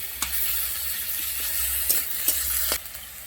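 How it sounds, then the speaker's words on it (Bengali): Okra curry stirred in a hot pan, a steady frying sizzle with a few scraping spoon strokes cutting through at irregular intervals, close and fairly loud. "এবার ঢাকনা খুলে আবারও নেড়ে চেড়ে দেবো"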